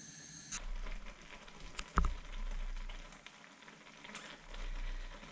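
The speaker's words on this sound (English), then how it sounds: "put it on the heat and allow it to come to the boil" Red lentils in water heat toward the boil in a pan, giving a soft, continuous bubbling hiss that swells and eases. One sharp knock, like a pan or utensil, cuts through partway.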